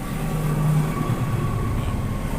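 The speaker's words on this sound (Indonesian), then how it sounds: "Maaf ya guys kalau ada suara kereta karena ini pinggir rel." A train running on the rail line right beside a trackside room, a loud continuous rumble with a steady metallic tone above it, close and unbroken, with no talking.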